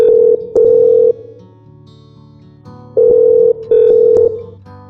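A telephone call is placed, with loud, steady electronic tone pulses in short bursts separated by quieter gaps, heard close and clear with no talking.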